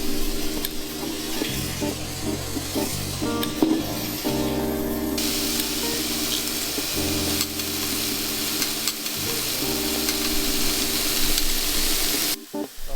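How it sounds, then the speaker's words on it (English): Chopped mushrooms and garlic frying in butter and olive oil, a steady loud sizzle and hiss throughout, with occasional stirring scrapes in the pan. "Cook your chopped mushrooms and garlic in the oil and butter for a few minutes."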